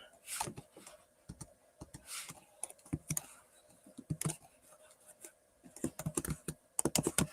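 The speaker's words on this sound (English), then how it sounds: "I can type" Computer keyboard typing in bursts of quick clicks with pauses between runs, close and moderately loud.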